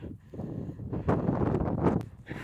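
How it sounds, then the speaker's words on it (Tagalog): Strong winter snowstorm wind in Canada roars and buffets the microphone in a steady, rumbling rush, with gusts swelling and some rustling underneath. "Ang lakas ng hangin."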